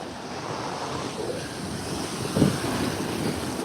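Ocean surf washes steadily onto the shore, with a broad rushing roar and gusty wind buffeting the microphone, and a slightly stronger wave surge partway through.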